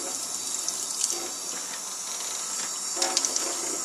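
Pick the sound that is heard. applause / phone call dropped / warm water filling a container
warm water filling a container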